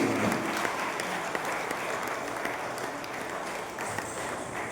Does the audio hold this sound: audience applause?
yes